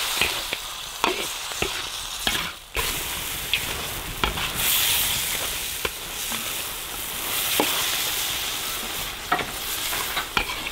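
Steady loud sizzling of chili satay stir-frying in a hot pan, with frequent scraping and clacking from stirring throughout.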